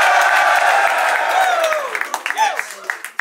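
A crowd at a Don't Flop rap battle cheers and applauds loudly, with sustained shouting and clapping that thins toward the end as a few whoops and voices stand out.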